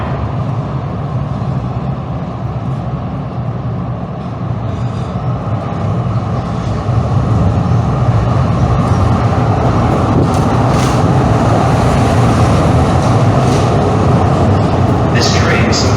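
A Calgary Transit light rail train stands at a platform, its steady broadband rumble and hum continuous throughout and growing slightly louder partway through, with a station announcement voice heard over it.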